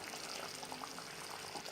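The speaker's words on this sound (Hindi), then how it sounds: "पानी डालने के बाद अब इसे एक उबाल आ चुका है।" Water for chicken changezi comes to a boil in a cooking pot, giving a soft, steady bubbling and seething heard close up.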